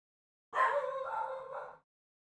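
A dog gives a single drawn-out, whining bark or yowl lasting about a second, moderately loud and close, alone against silence.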